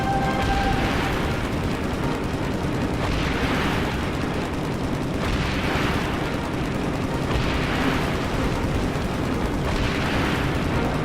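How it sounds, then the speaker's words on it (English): Rapid gunfire rattles nonstop in a Halo 3 battle, dense and loud, with repeated bursts and booming swells layered over one another. "So I'm firing as fast as I can."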